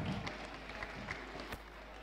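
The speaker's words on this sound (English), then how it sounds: "Let's clap for her." Church youth program audience applauding a woman who came forward for a recharge card prize, a soft steady patter of many hands at moderate distance with faint crowd murmur.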